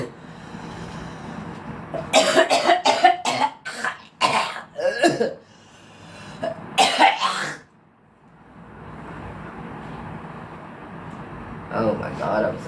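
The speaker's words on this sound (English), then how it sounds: "I'm just coughing up like chunks of mucus" A sick man coughs in a rapid, harsh fit, then clears his throat and coughs again, loud and close, between quieter stretches of room noise.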